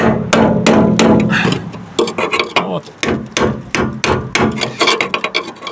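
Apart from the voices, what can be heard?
chopping metal fuel tank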